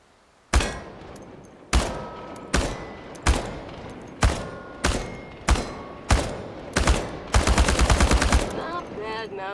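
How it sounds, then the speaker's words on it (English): Automatic rifle fire at target cans in the game Chernobylite: eight loud, separate short bursts at steady intervals, then a final rapid sustained burst, each shot ringing with a decaying tail, no talking. "The biggest challenge is compensating for recoil in automatic firing mode."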